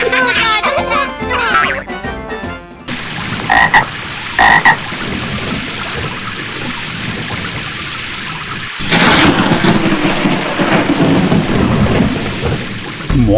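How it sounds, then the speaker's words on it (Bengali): Thunder rumbles after a lightning flash in an animated storm, with loud frog croaking and steady rain; a broad crash swells around the middle and lasts to the end. "বিদ্যুৎ ঝলকানির পরই কেন বজ্রপাত হয়"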